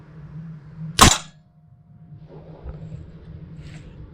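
An air rifle fires a single 10 grain Pro Hunter Swagger slug, one sharp loud crack with a brief tail, then quiet room tone and faint handling noise.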